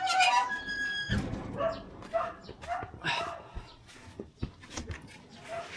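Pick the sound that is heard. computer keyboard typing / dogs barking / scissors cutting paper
dogs barking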